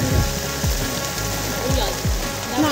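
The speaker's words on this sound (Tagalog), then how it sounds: "So last day, inulan na." Rain falling outdoors in General Nakar, Quezon, a dense steady patter with occasional louder drops, close and continuous across the short stretch.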